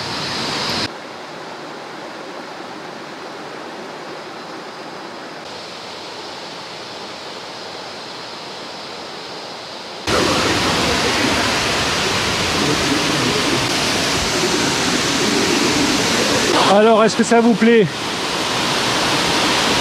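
A waterfall in Thailand roars with a continuous rushing hiss, softer at first and then suddenly louder and closer; a person speaks briefly over the noise.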